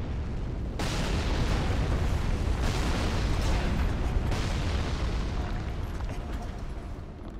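A sustained, roaring fireball explosion in the video game Dark Souls 3, with a broad rumbling burst that swells and flares a few times before slowly fading, loud and close.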